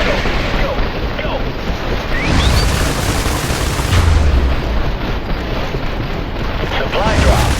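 Airstrike explosions in a military defense strategy game, deep booming blasts layered over a dense rumbling battle background, loud and continuous with a few whistling streaks.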